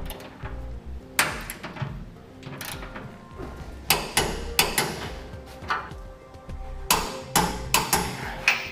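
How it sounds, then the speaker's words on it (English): Bolts for a Curt custom 5th wheel hitch on a 2014 Ford F-250 are tightened with a wrench, giving sharp metallic clicks and clanks in irregular clusters, close and fairly loud with no talk. "we'll tighten all the bolts to the specifications found in the instructions"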